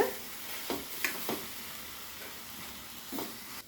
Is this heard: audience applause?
no